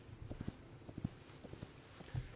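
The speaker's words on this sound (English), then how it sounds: "I've been using this horse just to get to place much quicker" A horse walks along in the video game Hytale, its hooves clip-clopping in a soft, uneven rhythm, fairly faint and with no voices over it.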